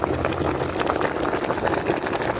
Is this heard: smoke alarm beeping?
no